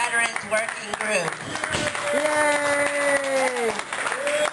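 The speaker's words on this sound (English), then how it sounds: "I want to give a big round of applause to him" Applause and cheering from an audience at a harm reduction dinner event, a clattering mass of clapping mixed with whoops and raised voices throughout, fairly loud and close.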